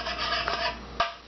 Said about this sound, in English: Mix these all together.